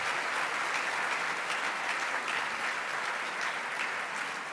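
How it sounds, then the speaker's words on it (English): Audience applause at a legal organization's national convention, a dense, steady wash of clapping from a large crowd filling the room without a break for several seconds. "let's give them a round of applause as well"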